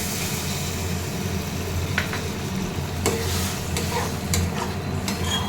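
Yogurt goes into a pan of sizzling spice masala with salt, turmeric and sugar for a cauliflower dish, giving a steady close frying hiss with a few soft clicks of stirring throughout, and no talk.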